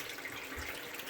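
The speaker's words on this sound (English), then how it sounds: "you can see the difference in our water flow, flowing like a stream" Steady rushing water pours freely down a freshly unblocked sink drain, a continuous close hiss with a faint low gurgle partway through, no voices.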